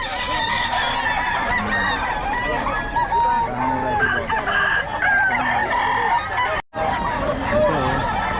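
Many chickens and roosters crow and cluck together at a poultry seller's place in Bocaue, a loud, dense, overlapping din with repeated rising crows close by and faint talk underneath.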